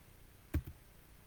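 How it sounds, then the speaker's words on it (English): Two quick keystrokes on a computer keyboard, close and crisp, the second softer than the first, followed by quiet room tone. "Hang on a minute, I'm typing."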